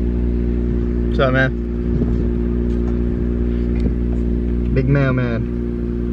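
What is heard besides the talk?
Infiniti Q50 car engine revving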